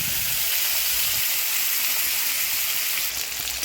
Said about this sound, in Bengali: আমার তেলটা গরম হয়ে গেছে, এখন একটু জিরে ফোড়ন দিয়ে নিচ্ছি।